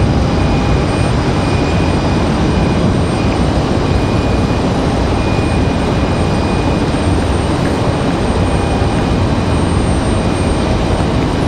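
An airliner climbs out of Raleigh-Durham airport and banks left, producing a loud, steady, broadband jet roar with a faint whine that holds constant throughout, with no talk.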